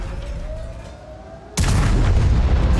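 A quiet engine rumble and faint tone, then a sudden heavy tank cannon blast in a video game, its booming roar lingering for over a second.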